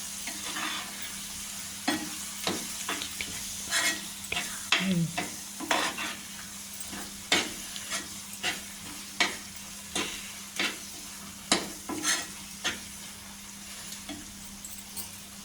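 Masala spices, including ground coriander powder, fry in a pan for a masala eggplant curry. A spoon scrapes the pan in regular strokes about a dozen times over a quiet, continuous sizzle.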